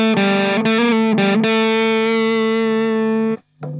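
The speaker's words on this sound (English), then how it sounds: "wonderfully weird guitar going through a wonderfully weird pedal" An electric guitar through a Danelectro French Toast octave distortion fuzz pedal plays a few short, buzzy stabs, then one long sustained fuzzed note that rings out loud and alone before cutting off.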